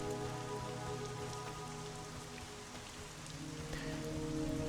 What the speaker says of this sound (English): We got some rain going now.